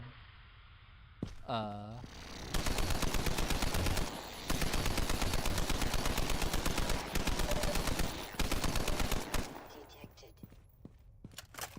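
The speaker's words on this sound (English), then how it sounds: "here's the final hidden weapon that you get later, but this, the light machine gun, which was a real scrap weapon" Light machine gun from the Half-Life 2 mod Raising the Bar Redux fires in long rapid automatic bursts with short gaps, loud and close, after a weapon-handling sound, fading to quieter game ambience.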